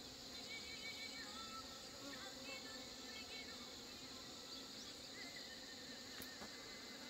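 Honeybees buzz around hives being merged after hornet damage and failed mating, a steady dense insect hum that continues throughout at a moderate distance.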